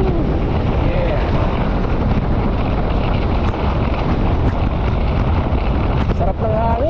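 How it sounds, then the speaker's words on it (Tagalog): Strong wind roaring steadily over the microphone while riding an e-bike outdoors, loud and continuous, with faint traffic and voices buried underneath. "Sarap ng hangin."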